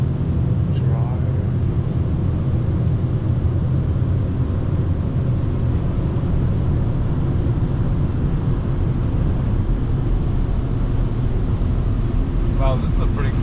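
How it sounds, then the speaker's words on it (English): Automatic car wash dryer blowing over a Tesla, a steady, loud, broadband roar of rushing air that holds constant throughout, close to the microphone, with brief faint voices partly buried beneath it. "Oh, so is this the dryer?"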